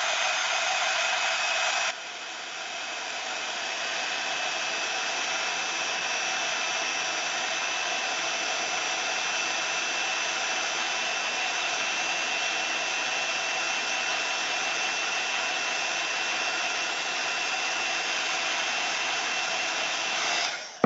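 A hair dryer blows steadily to dry paint on a papercraft piece, a constant loud whirring hiss that holds unchanged for about twenty seconds, with a slight shift in tone after the first two seconds, and cuts off at the end.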